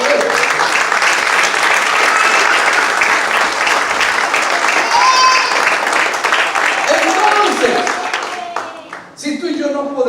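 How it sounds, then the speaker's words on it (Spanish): A church congregation bursts into loud, sustained applause filling the room, thinning out toward the end as the clapping tapers off. "Denle un aplauso al Señor por eso"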